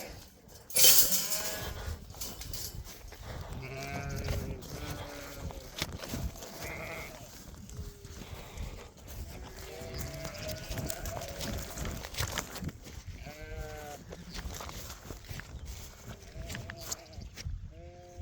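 A flock of sheep bleats repeatedly, with several wavering calls, some close and some farther off, scattered over a low outdoor background with faint clatter.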